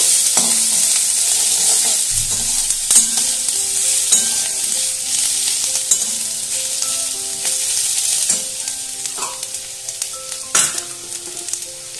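Food with a green chilli sizzles in a pan while a utensil scrapes and clinks through it, with occasional sharper taps against the metal.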